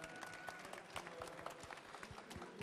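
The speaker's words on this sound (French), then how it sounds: "On peut l'applaudir" An audience applauds at an equestrian show event, giving steady, dense clapping from a crowd without pause throughout.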